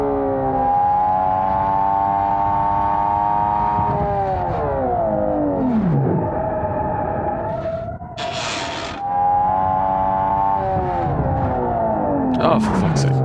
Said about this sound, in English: I'm going to give you guys a nice quiet listen to the engine.